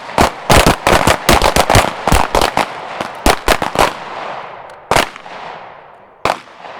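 Pistol shots during a shooting drill: loud, sharp cracks fired close by in quick bursts, first a fast string of rounds, then a few spaced pairs and a final single shot with brief echoes, no talking.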